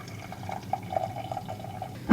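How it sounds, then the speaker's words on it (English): Hot water poured from a kettle onto instant Nespresso coffee in a mug, a soft, steady trickle of liquid over about two seconds that ends with a brief louder splash or clink. "Pour some hot water on top."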